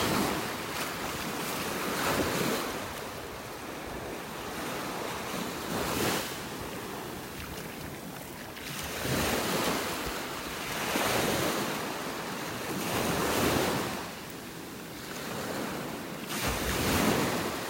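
Ocean waves roll onto a beach in North Naples, Florida, each surge swelling and receding every few seconds in a steady rhythm, with wind rushing across the microphone and no voices.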